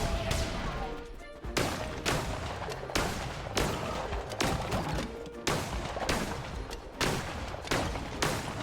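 Bombs going off in World of Warcraft, a steady run of punchy booming blasts about every half second to a second, loud and close, with nobody speaking.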